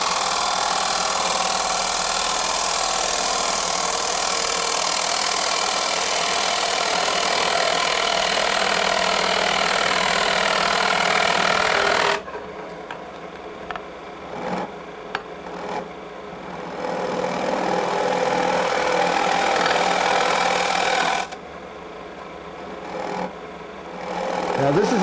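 A hollowing cutter takes small cuts in wood spinning on a lathe, a loud continuous whirring hiss broken off abruptly midway, then returning in a later burst, with someone talking over the quieter stretches.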